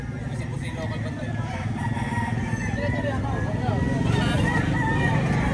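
Roosters crow repeatedly among gamefowl for sale at a market in Batangas, loud and close over a constant hubbub of clucking birds and background voices.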